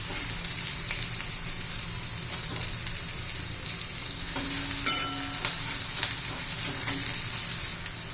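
Onion sautés in a pan for a spicy dried-fish chutney, a continuous bright frying hiss with light stirring sounds and a brief clink midway, close and steady without speech.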